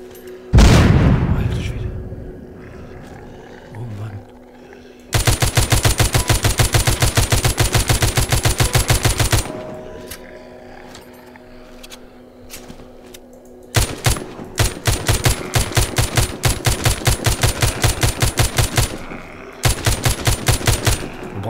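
Gunfire and explosions in the zombie shooter The Walking Zombie 2: an early heavy boom, then long sustained bursts of rapid automatic fire broken by quieter gaps, loud and close with a faint game hum between.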